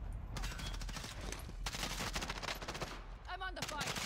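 Automatic gunfire in a shooter video game comes in rapid repeated bursts with short gaps between them, fairly faint overall, with an odd electronic warble near the end.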